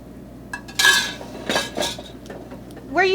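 A spoon scraping and clinking against a pan while arborio rice risotto is stirred, a few distinct metallic scrapes and taps up close, with no talk.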